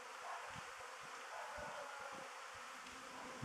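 Honeybees buzz steadily around hives at an apiary during the first spring cleansing flight, beside a field sown with white clover; a dense, continuous outdoor hum with no talking.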